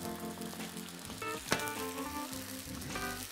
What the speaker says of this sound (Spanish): Lo que vamos a hacer es reducir ese vinagre a fuego fuerte.